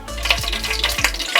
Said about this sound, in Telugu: పోపు పెట్టుకుంటా. కొద్దిగా ఆయిల్ వేసుకున్నాను.